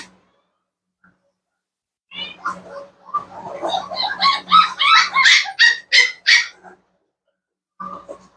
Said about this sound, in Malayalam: ഇത് നമ്മുടെ 5 പപ്പീസ്